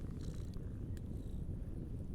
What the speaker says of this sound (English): all you could hear was the purrs